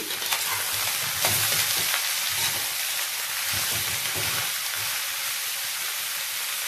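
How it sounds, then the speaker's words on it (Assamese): Finely chopped onions sizzle and hiss steadily in hot oil in a pan as they fry for a spicy mutton curry, with occasional stirring scrapes, close and even throughout, no voices. "পিঁয়াজখিনি এতিয়া সুন্দৰকৈ মই ভাজিম"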